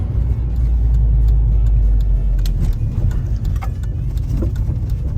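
A car drives up the approach to a country club, its engine rumbling steadily from inside the vehicle with low road noise and faint interior clicks and rattles, with no talk.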